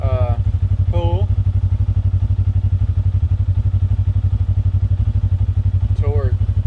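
A Segway UT10 utility vehicle with a Team MSC tune pulls in high gear, its engine a loud, steady, low pulsing rumble throughout, with someone briefly speaking over it.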